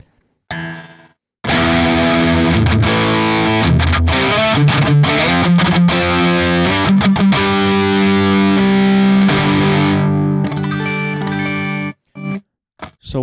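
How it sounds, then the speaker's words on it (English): Electric guitar played through daisy-chained Neural Amp Modeler profiles, a pedal into a modified Marshall JCM 800 preamp and a power amp, giving loud, distorted sustained chords and riffs for about ten seconds, then a few short stabs and silence. "a NAM profile of a pedal going into a NAM profile of a Marshall preamp, a JCM 800 modified preamp"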